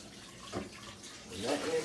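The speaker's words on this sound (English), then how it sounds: "I'm just gonna rinse it off real quick with a little regular sink running water" Tap water running from a regular sink to rinse out a pot, a soft, close splashing flow that swells toward the end, faintly mixed with a low voice.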